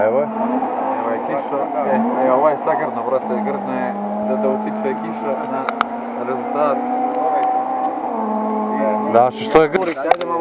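A Yugo race car at the Lovćen hill climb race roars past, engine note rising and sustained with gear changes, while spectators shout and talk excitedly nearby.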